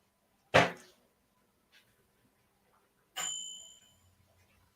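A microwave oven beeps in a nearby room, two separate short electronic tones about two and a half seconds apart, each with a bright ringing tail, heard fairly quietly over a quiet background with no talking.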